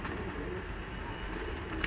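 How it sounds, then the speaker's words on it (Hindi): Punjabi and Madrasi pigeons cooing softly in a loft, low murmuring coos heard from a short distance. "इस वाली लोफ में ये वाले कबूतर हैं, पंजाबी और मद्रासी।"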